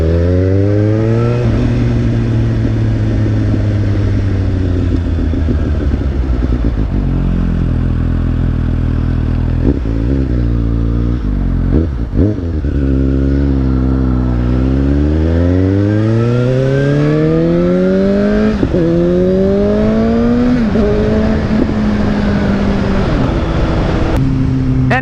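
A loud, raw Yoshimura Alpha motorcycle exhaust with the baffle removed revs repeatedly, the pitch climbing and falling in bursts, with throaty idle between throttle blips.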